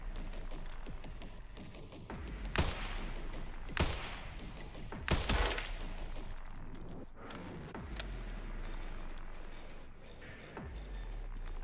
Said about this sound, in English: These motherfuckers using mortars now?